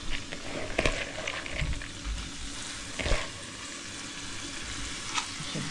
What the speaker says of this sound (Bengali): এখন ডালটাও ছেড়ে দেব আস্তে করে